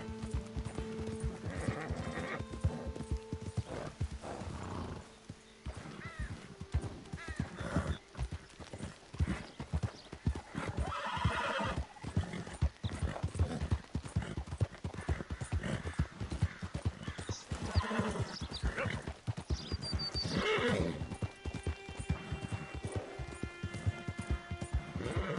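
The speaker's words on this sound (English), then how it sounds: "most of this video has been just me riding my horse" Horse hooves clip-clop steadily at a gallop through a video game's open-world soundscape, with a whinny rising briefly near the end; the hoofbeats stay loud and continuous for the whole stretch.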